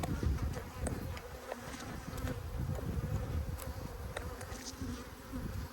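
Honeybees hum steadily around an open hive during an apiary inspection of a recovering colony, a dense, continuous buzz close by with occasional louder passes of individual bees.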